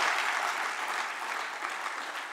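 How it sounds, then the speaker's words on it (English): A theatre audience at the Abbey Theatre claps continuously in a dense, even wash of applause, steady and moderately loud from start to finish. "he deserves a round of applause"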